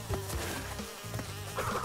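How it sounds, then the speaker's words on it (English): Bees buzz in the video game Crash Bandicoot N-sane Trilogy, Cortex Strikes Back. A steady, close insect drone runs the whole time, mixed with game music and small effect hits. "I don't think there are any more bees."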